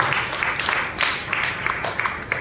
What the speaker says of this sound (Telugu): మరి ఒకసారి చప్పట్లు కొట్టి ప్రభువుని మహిమపరుస్తాం